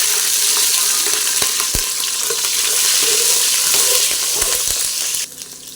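Cumin and mustard seeds fry in hot oil with a loud, continuous close-up sizzle and crackle, a few sharp pops scattered through, before the sizzle drops off abruptly near the end.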